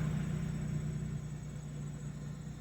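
A Buick LeSabre engine runs just after starting, a steady low idle rumble with a constant hum, close and continuous with no talk.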